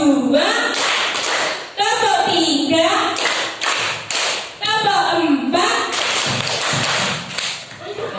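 A class of children claps a rhythmic chant pattern in short, sharp bursts, with their young voices chanting in unison between and over the claps, the sequence repeating several times at close range.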